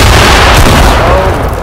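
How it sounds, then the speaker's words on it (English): Gunfire and a grenade blast in the Fortnite video game: a loud, dense burst of booming, crackling shots and explosion noise, close and saturated, ending within a couple of seconds. "I hear gunshots."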